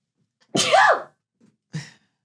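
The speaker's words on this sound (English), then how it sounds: "I gotta sneeze." One close, loud sneeze bursts out with a sharp sighing pitch, followed by a short breathy sniff or second exhale moments later.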